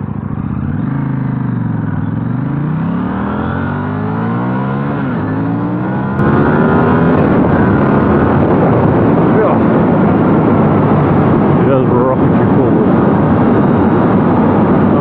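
A 2020 KTM Duke 890 motorcycle builds up to highway speed, its engine note rising through the gears in sweeping pitch climbs before settling into a loud, steady drone under heavy wind rush.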